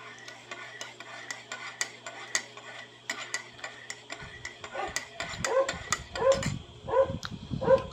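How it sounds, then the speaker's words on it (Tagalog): A dog barks several times in the later part, among clinking utensils and light tapping sounds nearby. "maingay yung aso natin"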